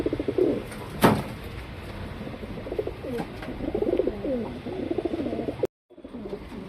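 A male Kalanka Cheeni pigeon coos in repeated throaty, rolling phrases close by, with a sharp thump near the start and a brief cutout toward the end.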